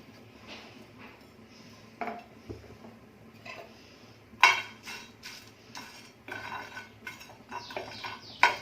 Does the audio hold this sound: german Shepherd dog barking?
no